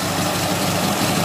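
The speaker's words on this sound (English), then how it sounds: "Engine sounds sweet enough" A Triumph TR4 engine idles steadily after an ignition timing and points adjustment, giving a continuous, close, even low rumble with no talk over it.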